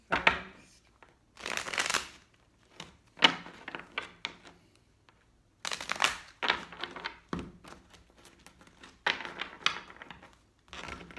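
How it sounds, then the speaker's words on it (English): Tarot cards being shuffled on a table in repeated bursts of riffling and scraping, with soft taps and thuds between them, close and fairly quiet. "I don't want to shuffle endlessly and scrape across this table"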